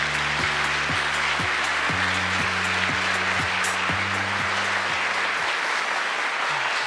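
An audience applauding at a Korean government policy briefing, steady dense clapping throughout, with a low musical fanfare playing underneath.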